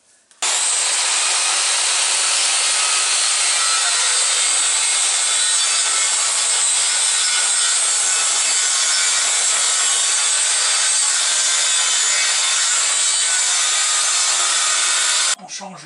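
Hand saw cutting through a wooden plank laid across two sacrificial boards, a steady continuous rasping of rapid strokes, close and loud, running nearly unbroken for about fifteen seconds with no talk.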